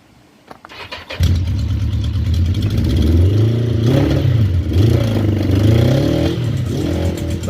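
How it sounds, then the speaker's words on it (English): A Yamaha engine with a newly fitted exhaust fires up and settles into a loud, close, throbbing idle, with a couple of modest revs rising and falling. "Give it a wee rev."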